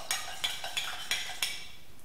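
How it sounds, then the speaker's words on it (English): Old fashioned cocktail with rye, bitters and ice being slowly stirred in a glass: five light, evenly spaced clinks of spoon against glass and ice, crisp and close, with quiet pauses between. "We're going to slowly stir that up."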